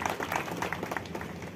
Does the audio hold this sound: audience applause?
yes